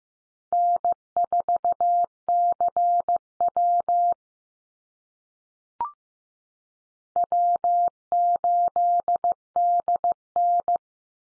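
Morse code call signs keyed at 15 words per minute, a clean steady tone pulsing in quick dot-dash groups, a short pause with a faint click, then another call sign in the same crisp rhythm.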